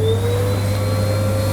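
A Hoover Sensory Evo vacuum cleaner runs with its workout nozzle fitted at slightly reduced suction, giving a loud, steady, close motor whine with a constant low hum and no talking.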